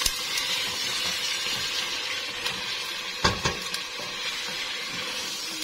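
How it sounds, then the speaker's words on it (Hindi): Mutton frying with ginger and garlic in a pan, a steady soft sizzle with a few sharper pops and crackles partway through, close by and with no talking. "गोश्त को फ्राई करेंगे। बहुत ही अच्छी सी खुशबू अदरक लहसुन की आती है"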